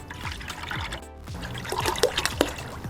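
Water poured into a container of blue coolant for a 50-50 mix during BMW E46 thermostat replacement, a soft close trickle and splashing with gurgling drips, quiet and unbroken by talk.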